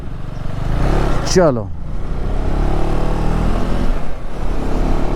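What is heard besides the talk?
KTM Adventure 390 motorcycle setting off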